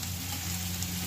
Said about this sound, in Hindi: ये अपने प्याज ब्राउन कलर आने लग गए हैं